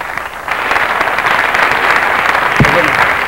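An audience at the Trofeo Huancavilca awards night applauds in a steady, sustained wash of clapping, moderately loud, with a brief thump near the end.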